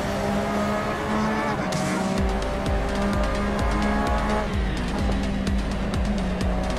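A Porsche race car howls at high revs around a track, its engine note rising and falling with gear changes while the tires squeal through the corners, loud and constant from onboard.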